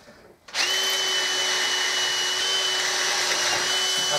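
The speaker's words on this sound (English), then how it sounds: "Try to keep the drill central," A small electric drill bores through a bolt during servicing of a Hoover 375, starting abruptly and then whining at a loud, steady pitch close up, with no speech.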